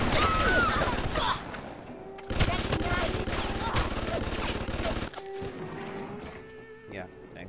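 Turret gunfire in the video game BioShock, rapid bursts of automatic shots and metallic clatter, loud and dense with brief pauses, while someone talks over it.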